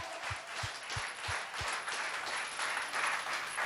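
Worshippers in a congregation clap together in a sustained, even roar of applause, with a few soft low thumps near the beginning.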